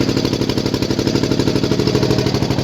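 A car engine running just after a cold start in a 2020 snow storm, idling at high RPM with a loud, close, steady rhythmic chugging and knocking that fills the whole stretch.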